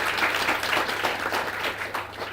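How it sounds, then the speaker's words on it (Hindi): A congregation claps during a sermon, a broad, steady patter of many hands in a hall that keeps going at moderate loudness over a low constant hum. "यदि आपको मेरी बातें अच्छी लगे तो ताली बजा दीजिएगा।"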